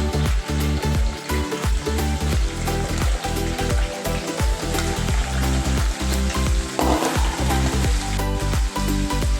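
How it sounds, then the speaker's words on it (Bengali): Vegetables frying in oil in a kadai for khichuri, with a dense, continuous loud sizzle and crackle broken by rhythmic scraping and stirring knocks throughout. "আমি কড়াইতে তেল দিয়ে দিয়েছি বাদবাকি সবজিগুলো আমি ভেজে নেব"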